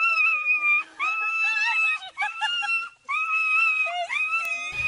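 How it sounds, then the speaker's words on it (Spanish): A schnauzer whimpers and cries with emotion on being reunited with its owner after two years, making close, high-pitched whining cries in repeated wavering bursts with short pauses. "El tierno perrito lloraba, pues volvía a ver a su dueña después de 2 años de estar separados."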